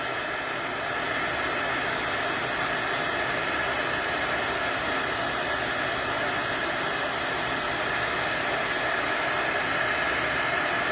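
A heat tool blows a loud, steady roaring hiss while heating embossing powder on cardstock for a handmade card, constant and close throughout with no talking.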